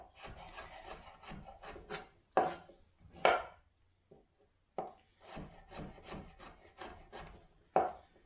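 A knife chops broccoli stems on a wooden cutting board in a kitchen, producing a series of crisp, close strikes in uneven bursts separated by short pauses.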